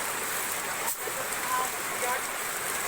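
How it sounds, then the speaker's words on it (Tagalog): Heavy rain drumming steadily on surfaces in a rural province, a dense, even hiss that stays loud and continuous with one brief dip, and no speech over it. "Kaya malakas na ang ulan dito sa amin."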